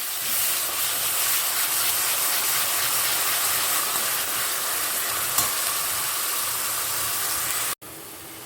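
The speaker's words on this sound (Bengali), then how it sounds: "পেঁয়াজটা ভাজা ভাজা হয়ে গেছে" Onion paste with whole onion and whole garam masala spices frying in hot oil, a loud, continuous close sizzle with a faint clink partway through; the sound cuts off briefly near the end.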